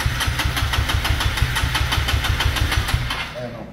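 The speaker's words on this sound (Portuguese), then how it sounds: "Ah, então liga a moto aí pra ver, ué." A Honda Fan 160 motorcycle fitted with a quickshifter and a Hornet piston runs with a steady, rapid idle thrum up close, then cuts out near the end.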